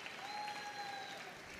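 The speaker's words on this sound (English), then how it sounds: "Some fans in the crowd here as well" A crowd of fans applauding during terrier group judging at Crufts 2022: brief, faint, distant clapping with a thin whistle-like tone above it.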